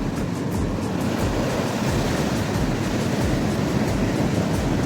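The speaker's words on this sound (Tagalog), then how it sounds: "Hindi ko alam kung naririnig yung boses ko dahil sa sobrang lakas ng alon dito." Large waves driven by Typhoon Crising crashing on the beach at Punta Fuego, a loud, continuous roaring surf with steady broadband rush and wind buffeting the microphone throughout.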